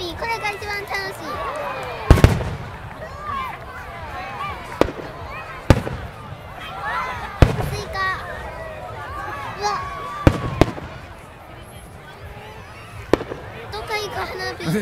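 Fireworks go off over Cupertino, California in sharp, scattered bangs every second or two, and people chatter and exclaim around them throughout.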